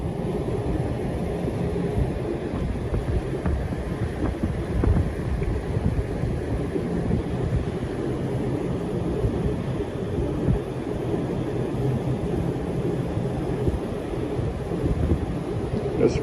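A commercial HVAC unit runs at full speed, giving a steady, loud low rumble and broadband airflow roar that holds evenly throughout without a break.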